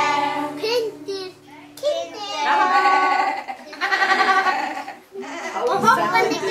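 Sheep bleat in several loud, wavering calls in close succession, mixed with children's voices nearby.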